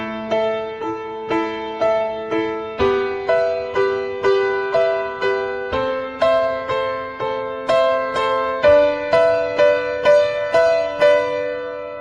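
Piano repeating jabs of the same note with the sustain pedal down, steady rhythmic strikes that ring into one another over shifting chords, close and clear with no talking.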